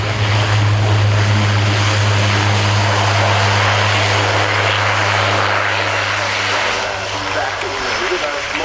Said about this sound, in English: after this touchdown, the C-27J Spartan can be stopped in less than 300 meters